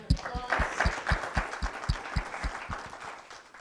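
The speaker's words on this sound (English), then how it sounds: "Let's give them a round of applause." A small forum audience claps for a panel of speakers after a Q&A session, with fairly sparse, steady hand claps spread through the room, not a dense roar.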